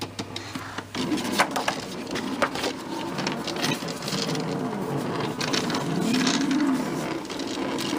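A slice machine runs steadily for about seven seconds, giving a continuous close mechanical whir and buzz after a short quieter start, with no talking over it.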